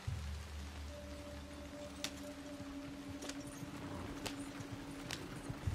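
A horse trots in the Red Dead Redemption 2 video game, its soft, steady clip-clop hoofbeats sitting under a low hum and light hiss, with a few sharper knocks standing out.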